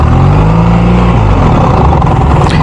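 A BMW R 1300 GS motorcycle engine revs loudly and close up, a steady mid-pitched motor tone that rises slightly near the end.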